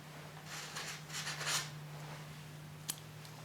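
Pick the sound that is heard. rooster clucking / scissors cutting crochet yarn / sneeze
scissors cutting crochet yarn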